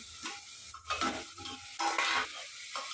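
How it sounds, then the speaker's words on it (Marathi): Masala with tomato being stirred and fried in a pan for spiced rice, a close sizzle under scraping spoon strokes in short bursts, fairly quiet with no voices. "हे सर्व हलवते"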